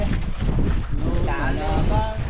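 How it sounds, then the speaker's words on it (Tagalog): Wind gusting across open sea near an island, heard from a small boat as a steady, loud rushing roar buffeting the microphone, with faint voices underneath. "kumahangin ang hangin"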